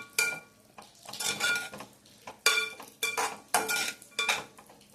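A spoon stirs vegetables cooking in a pan with salt, making a series of close metallic scrapes and clatters in uneven bursts, with a faint sizzle underneath.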